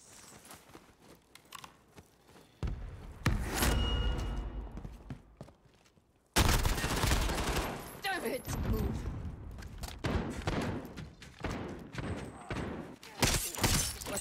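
Gunfire in the shooter game Call of Duty: Warzone, bursts of shots and impacts that start abruptly and continue in loud clusters, with brief talk over the action.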